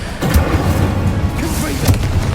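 A fire spell cast in Hogwarts Legacy combat, giving two muffled whooshing bursts about a second and a half apart over a dense, continuous rumble of battle noise.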